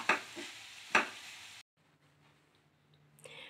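Vegetables frying in a pan with chaat masala for a veg roll filling: two short, loud bursts of sizzling and stirring, then the pan goes almost silent apart from a low hum.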